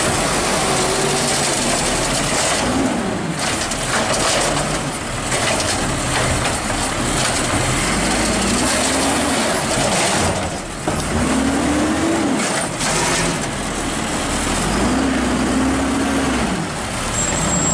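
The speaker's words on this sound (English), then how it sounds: "You know, that's such a loud engine" A loud diesel engine of an EJ Condor Octos bus driving, a constant heavy roar with rising whines as it pulls away and shifts, plus a hiss like air brakes, with no voices.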